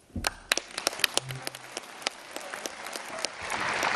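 Applause at a First Nations chiefs' assembly for the Prime Minister, starting with scattered distinct claps and building into a fuller, steady clapping crowd, moderately close with no talk.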